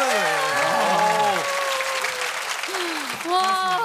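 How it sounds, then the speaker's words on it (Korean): A studio audience at a Korean comedy show applauds steadily throughout, with voices and sung or shouted tones riding over the clapping. "진짜 박수 한번 주셨습니다"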